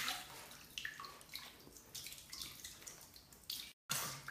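Water splashes and drips in a bath as a dachshund is washed, with irregular soft splashes and trickles throughout, a brief dropout near the end, and no talking.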